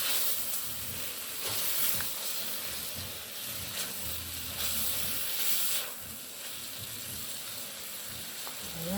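Bacon sizzles and fries steadily in a pot, a continuous crackling hiss with faint scraping stirs, fairly close and with no one talking.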